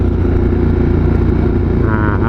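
A 2013 Ducati Multistrada motorcycle fitted with cruise control, heard while riding: a steady, loud engine drone mixed with wind rush, holding an even level throughout with no speech.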